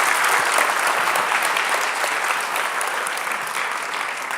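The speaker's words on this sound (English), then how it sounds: "Can we have a round of applause for Rich?" Audience applause at a wedding, portrait and event photography conference, a dense, steady clapping from a large crowd that fills the whole stretch at close, even loudness and tapers only slightly toward the end.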